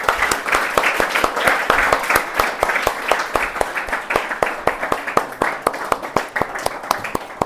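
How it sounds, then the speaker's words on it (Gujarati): An audience at an anchoring training session gives loud applause, with distinct hand claps standing out in a brisk rhythm over a steady bed of clapping. A brief murmur of voices sits beneath. "જોરદાર તાળીઓ થવી જોઈએ એમની માટે"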